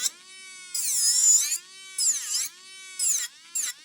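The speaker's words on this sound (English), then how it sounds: "file just by me using this drill versus the other" A small electric nail drill filing nails whines in short bursts, its pitch rising and falling as it runs intermittently, close and fairly quiet.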